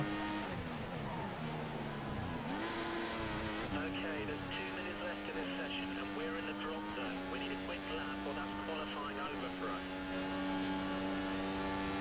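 An F1 race car in the F1 2014 racing game runs down the front straight, its high-pitched engine whine climbing through the gears with shifts, continuous and prominent with a steady drone underneath.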